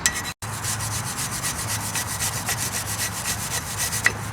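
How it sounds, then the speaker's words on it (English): Small hand file rubbing built-up rust off brake pad clips during a brake pad and rotor job on a Nissan Rogue, a quick, steady series of close, gritty rasping strokes with no talk. "I like to take a little file. Don't go file happy with it, but just kind of brush off that built up rust."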